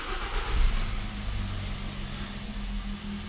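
A car engine runs in a garage during clutch replacement work, opening with a short rev and settling into a steady idle close by, with no voices.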